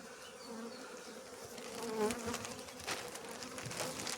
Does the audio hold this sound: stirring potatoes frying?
no